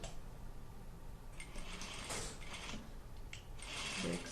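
A sewing machine stitches binding onto a garment sleeve, producing a soft, steady mechanical whirr with faint clicking, quiet and continuous, ending in a slightly louder burst.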